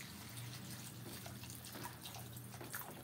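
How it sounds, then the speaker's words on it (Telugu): Water poured into a vegetable masala gravy: a faint, steady trickle and dripping liquid sound, quiet and close, with no voices. "అందులో కొంచెం వాటర్ పోసి"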